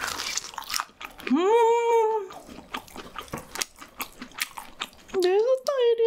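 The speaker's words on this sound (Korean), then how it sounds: "껍질이 그리고 되게 바삭바삭해." Crunchy bites into the crispy skin of a large spicy fried chicken drumstick, heard close up with repeated snapping crunches and chewing, mixed with sustained vocal sounds.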